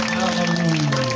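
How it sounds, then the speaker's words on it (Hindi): A church congregation at a healing service claps and applauds loudly in a dense, steady burst under a voice. "ताली मारिए जोर से।"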